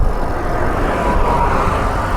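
Steady road traffic rushes past a cyclist on a highway stretch between McClellanville and Pawleys Island, a constant broadband roar with no distinct single vehicle standing out.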